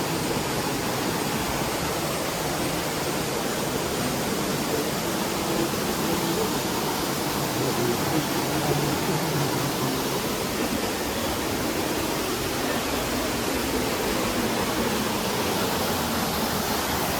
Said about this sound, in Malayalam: വെള്ളച്ചാട്ടം ഇവിടെ നിന്ന് കുറച്ച് കാണാൻ പറ്റും